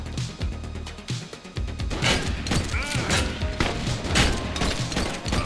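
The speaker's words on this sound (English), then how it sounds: "Is this asshole gonna be shooting at me the entire time?" Repeated enemy gunfire in The Precinct, a police video game, crackles as dense bursts of shots with thuds and impacts, loud and steady throughout with no voice in between.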